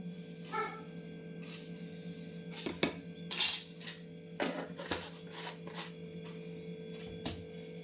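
A large spoon taps and scrapes against a dish while salt is added for a Dussehra breakfast, several sharp metallic clinks spaced out over a steady background hum.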